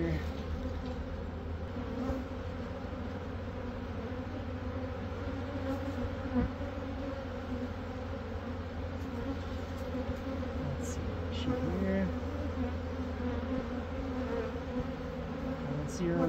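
Honey bees buzz in a dense, continuous drone during a suitless bee rescue, steady and close throughout the whole stretch, with a low mechanical hum underneath.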